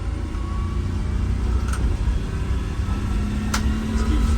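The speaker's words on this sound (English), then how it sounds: "Making it up the hill with no problem." A bus climbs a hill during a test drive after major metal was found in its oil, its engine giving a steady low rumble with faint whine, close and continuous, without talking.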